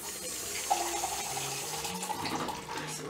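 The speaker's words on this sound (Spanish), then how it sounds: "ahora vamos a poner un poco de agua" Water running steadily into a cooking pot of chili and peanut sauce for puca picante, a continuous close splashing trickle lasting several seconds.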